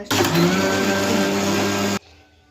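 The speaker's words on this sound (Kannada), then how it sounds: "ನಾನು ಮಿಕ್ಸಿಗೆ ಹಾಕೊತಾ ಇದ್ದೀನಿ ಮೊಸರು ಮಿಕ್ಸಿಗೆ ಹಾಕ್ಕೊಂಡೆ" Kitchen mixer grinder blending curd with green chillies, garlic, curry leaves, coriander and cumin, a loud steady whirring motor for about two seconds that cuts off abruptly.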